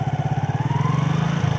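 A motorbike idling and then pulling away, a close, steady low thudding engine pulse with a fast regular beat, its pitch rising slightly as it gets underway, with no talking over it.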